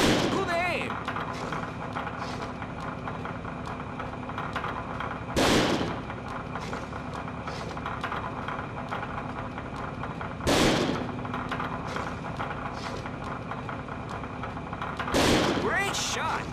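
Gunshots ring out at a shooting range in the video game Second Sight: three loud, sharp single reports spaced about five seconds apart, each with a short echoing tail over a steady ambient hum.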